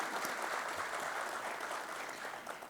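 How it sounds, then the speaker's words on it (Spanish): Audience applause at a lecture event in a Spanish-speaking setting, a steady even wash of many hands clapping that holds for a few seconds and eases slightly at the end. "Que sea para ustedes también otro aplauso de agradecimiento a toda su familia"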